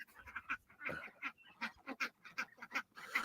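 Mallard ducks quack in quick, uneven bursts, a faint flock calling repeatedly without pause over a few seconds.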